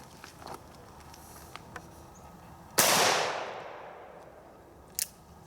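A Cimarron open top revolver fires a single loud shot at a target about 15 yards away, its sharp crack trailing into a long fading echo, followed by a faint click.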